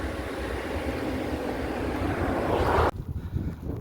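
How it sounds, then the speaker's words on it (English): A loud rushing roar from a train passing close by, heading north, holds steady, then cuts off abruptly, leaving quieter background noise. "There goes the train."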